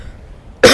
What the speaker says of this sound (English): I just coughed right into the microphone